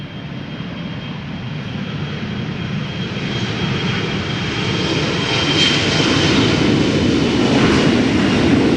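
A KLM airliner jet at Schiphol Airport in poor weather, a broad engine roar that swells steadily louder as it draws nearer, heard from a distance with no voices.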